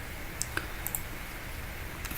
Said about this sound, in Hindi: इसको आप डबल क्लिक करके ओपन कर लें।